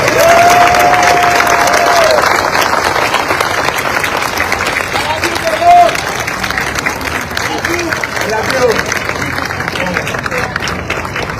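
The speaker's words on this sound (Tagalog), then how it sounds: "pwede bang yung pinakamalakas nyong palakpak para sa kanila" Loud audience applause and cheering from a crowded hall, a dense continuous wash of clapping that holds steady throughout, with a voice briefly calling out over it near the start.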